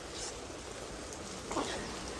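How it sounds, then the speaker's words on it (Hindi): Steady rain falling outside by a balcony, a soft, even hiss heard fairly close, lightening as it continues, with no speech. "अभी लग रहा है कि बारिश थोड़ी सी कम हुई है, हल्की हुई है"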